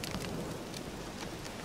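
Steady rain pouring in The Witcher 3: Wild Hunt, a continuous dense hiss with scattered brighter drop patters, even and moderately loud throughout with no talking.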